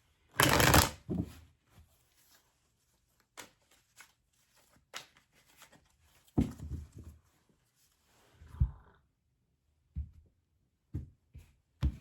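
Tarot cards are shuffled close by in a quiet room: one loud riffle at the start, followed by scattered soft taps, slides and a few more brief shuffling bursts.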